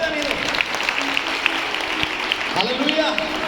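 Audience clapping at a church foundation day meeting, steady sustained applause from a crowd filling the room while a voice speaks over it.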